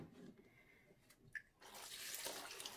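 Hollyhock flowers for stuffed dolma being rinsed gently in water, with soft splashing and trickling that swells into a steady louder wash of running water near the end, no voices.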